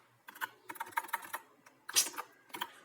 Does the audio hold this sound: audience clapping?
no